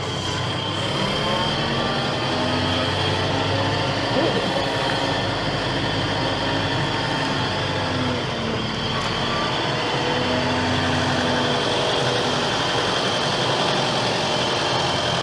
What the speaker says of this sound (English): I didn't even mean to set out to buy an air-conditioned tractor